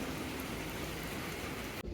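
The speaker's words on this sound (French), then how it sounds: "Une petite pluie vraiment..." Light rain falls on a street in Taiwan, a steady, even hiss of drops that carries on without a break and cuts off abruptly at the very end.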